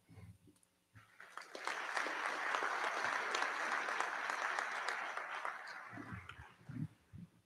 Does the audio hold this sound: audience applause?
yes